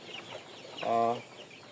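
A single short, fairly loud cluck from one of a flock of about 1000 coloured broiler chickens raised for meat on a poultry farm, set against a low, soft barnyard murmur.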